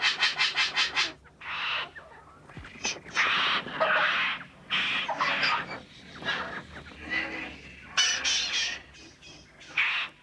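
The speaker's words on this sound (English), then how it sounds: "they asked the kookaburra to utter his cry to alert the sleeping men" A blue-winged kookaburra in the wild of Kakadu calls in a loud series of harsh, raucous, repeated squawking bursts that rise and fall in rhythmic volleys.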